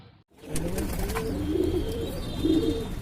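Pigeon cooing, a roughly ten-year-old bird kept at a home loft in Lucknow; soft repeated coos rise and fall close by over a steady low background.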